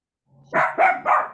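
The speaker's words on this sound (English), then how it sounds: "the dogs were barking." Dogs bark three times in quick succession, loud and close, after a brief faint sound and with no talk.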